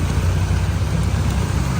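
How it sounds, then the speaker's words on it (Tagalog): Heavy rain pours steadily outside, a dense, continuous roar of drops hitting surfaces, loud and close with no pauses. "sobrang lakas na pala ng ulan"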